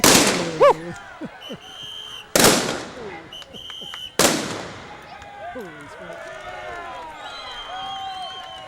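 Shotgun marching team firing shotguns during an Elks parade, three loud sharp blasts spaced a couple of seconds apart, each echoing and fading, with crowd noise and nearby voices between them.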